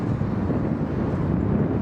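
Steady wind buffets the microphone on a windy evening at a high school soccer match, a constant low rumbling roar with no other sounds.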